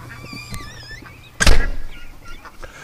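Day-old ducklings from a poor incubator hatch chirp in thin, high, wavering peeps through the first second. A loud thunk cuts across them, and faint chirps continue afterward.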